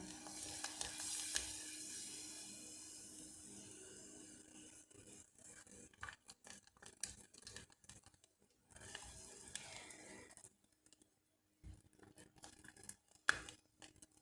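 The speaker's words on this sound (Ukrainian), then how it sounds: "І все гарно змішуємо до повного розчинення." Ginger cookie mixture stirred in a pot on the stove: a soft, continuous scraping swish with faint sizzling, broken by intermittent clicks and knocks of the utensil against the pot, close and quiet, with no voices.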